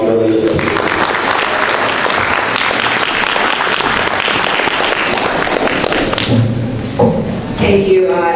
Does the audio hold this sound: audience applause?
yes